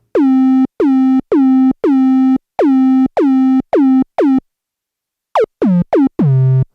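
Synthesized kick and tom hits shaped with a pitch envelope give zappy, descending tonal thumps, a steady run of eight, then after a pause quicker strikes at rising pitches, loud and dry.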